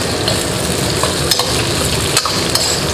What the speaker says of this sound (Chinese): 冷锅冷油啊，直接放入所有的这个料去爆，把它爆香啊。